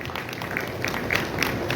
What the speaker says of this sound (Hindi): जोरदार तालियां बजाएं बिंदल साहब के लिए।